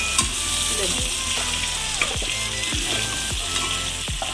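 Fish curry ingredients fry in hot oil with a loud, continuous sizzle, punctuated by regular scraping stirs of a spatula against the pan, close and alone with no talk.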